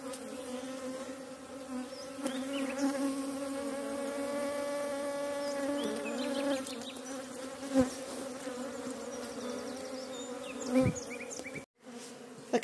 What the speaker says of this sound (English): back in the workshop where the bees were. Now there's a few stragglers